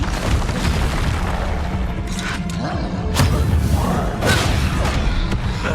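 Confringo blasting spells exploding in Hogwarts Legacy combat: several sharp booms and whooshing bursts over a constant rumbling, mechanical battle background, loud and close.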